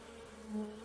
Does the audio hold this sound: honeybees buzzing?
yes